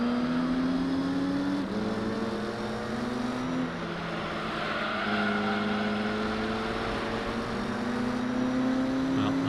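Ford GT40 race car engine in Gran Turismo 3 at Laguna Seca, a steady droning whine whose pitch climbs and drops with gear changes, loud and continuous throughout with no talk.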